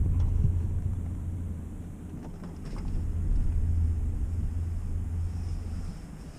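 A low, steady hum drones inside a Ford F150 pickup while it drives on a freezing night, a continuous rumbling tone that swells slightly and fades with road and wind noise, no voices.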